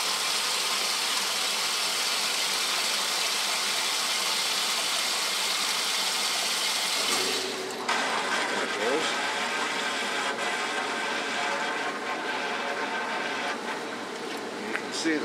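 A vintage Maytag washing machine starting its wash cycle, a steady broadband rush of water that gives way to a rhythmic mechanical churning hum with some knocking, close and fairly loud.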